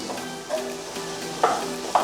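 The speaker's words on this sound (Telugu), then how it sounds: "అండ్ నేను కట్ చేసి పెట్టుకున్న 1/2 కేజీ బీరకాయ వేసేస్తున్నాను." Half a kilo of chopped ridge gourd goes into hot oil with ginger and garlic, bringing a steady close sizzle with a few sharp spatters as the pieces land and are stirred.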